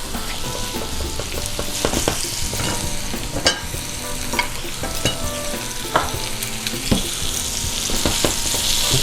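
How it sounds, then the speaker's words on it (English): Short ribs searing in a hot pan for red wine braised short ribs, a loud continuous sizzle up close with occasional clinks and scrapes of tongs or a utensil, no talking. "So we're going to start to sear these."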